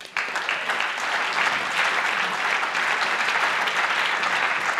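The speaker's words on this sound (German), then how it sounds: "Einen ganz herzlichen Applaus." Sustained, dense audience applause fills a youth hackathon presentation hall at Jugend hackt Berlin 2018, starting abruptly and staying loud and steady throughout as a team is introduced.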